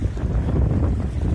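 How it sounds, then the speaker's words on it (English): Wind gusting across open water toward the Atlantic Ocean during an outrigger sailing canoe crossing, a loud, rough buffeting roar on the microphone with a low wash beneath. "the wind is blowing that way"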